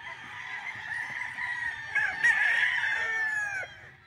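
A stag rooster crows one long, drawn-out call that rises and holds before fading, fairly close and loud, with no talking.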